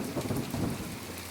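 A cartoon storm brings heavy rain with a low thunder rumble. The sound is dense and continuous, moderately loud, brief, and has no speech.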